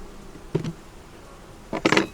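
Honey bees buzz close by around a hive in two brief bursts, with a low steady drone between them.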